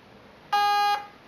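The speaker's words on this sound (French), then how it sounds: "Je reste appuyé à la troisième et j'attends le bip." An airsoft mosfet gives a single confirmation beep during burst-mode setup: a clean, steady electronic tone of about half a second, loud and close against a quiet background, ending abruptly.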